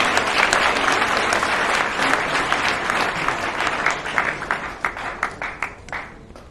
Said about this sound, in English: Round of applause for that, I guess.